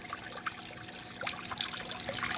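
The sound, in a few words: water trickling into pool of aquarium waterfall tank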